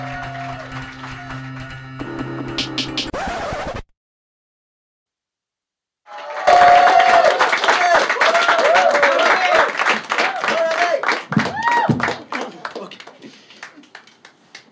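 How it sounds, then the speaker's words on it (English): A standup comedy crowd applauds the main act, loud dense clapping and cheering that swells after a brief silent gap and continues for several seconds before tapering, with music heard beforehand. "We'll give a thunderous round of applause, bringing your main act, Rabindra Khannan"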